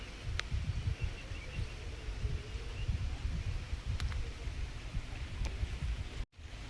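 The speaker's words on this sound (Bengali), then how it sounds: "ঝিমঝিম করে বৃষ্টি হয়ে যাচ্ছে।" Light drizzling rain falls by a house with a brimming pond, making a steady soft hiss with a few sharp drop ticks and a brief dropout near the end.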